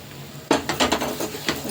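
A spoon scrapes and clinks against a pan while thick cashew barfi mixture is stirred, several distinct strokes in quick succession, close and fairly loud with no voices.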